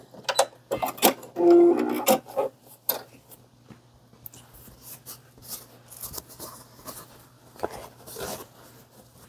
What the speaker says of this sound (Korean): 좀 두꺼운 부분을 지나는 거니까 미싱 소리가 순간 이제 좀 불편하게 들릴 수가 있어요.